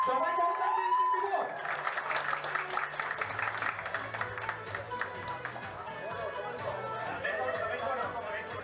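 Applause rises from an audience at a radio station's anniversary magazine launch, with dense clapping for a few seconds and crowd chatter around it. A voice speaks briefly first.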